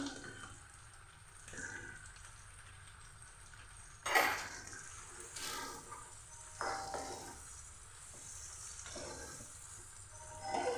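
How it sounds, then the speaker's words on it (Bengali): A hundred grams of sour yogurt added to mutton frying in a pan, a soft, quiet sizzle broken by a few louder splashes and scrapes as it goes in and is stirred. "পুরো টক দইটাকে আমি দিয়ে দিচ্ছি"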